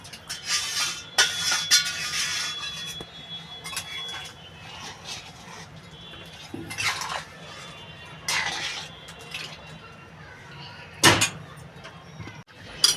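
Lid set onto a cooking pot of pumpkin curry with fried prawn heads, a few metallic clinks and scrapes between short rattles, close by, with someone speaking softly at times.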